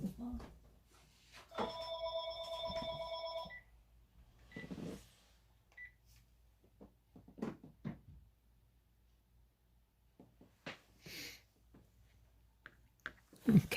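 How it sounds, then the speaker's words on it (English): A telephone rings once in a steady, tonal burst lasting about two seconds, set among quiet tapping and handling sounds while drawing a garden birdhouse. "There's the phone."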